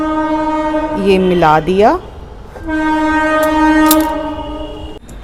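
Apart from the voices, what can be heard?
passing train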